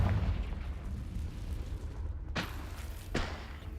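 A Confringo spell blast in Hogwarts Legacy, a heavy low rumble followed by two sharp bursts spaced about a second apart, fairly quiet and set against continuous game background noise.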